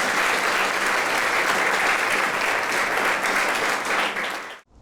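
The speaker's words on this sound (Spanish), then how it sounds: "Damos un aplauso al Señor," A church congregation claps together in loud, dense, continuous applause that holds steady for several seconds, then breaks off sharply at the end.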